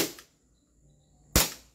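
Glock 17 pistol firing two sharp, loud shots about a second and a half apart, each with a brief echoing decay, nearby and alone with no talking.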